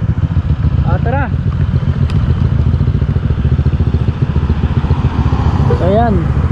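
A group of six Honda ADV motorcycles rides along a highway, a continuous close engine drone with rhythmic pulsing, and voices speak briefly over it twice.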